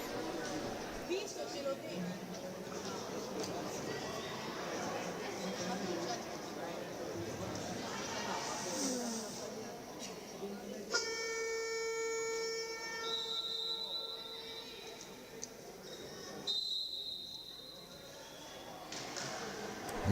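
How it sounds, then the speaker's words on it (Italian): At a women's Serie A rink hockey game, a sharp, steady siren and referee whistle tones ring out over constant commentary and arena crowd noise, with a second shorter burst later. "Il suono della sirena, il fischio dell'arbitro per indicare che bisogna riprendere a giocare"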